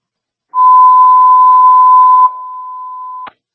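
New Hampshire fire department dispatch alert tones: a loud, steady electronic tone holds for nearly two seconds, then drops to a quieter continuous tone that ends with a short click.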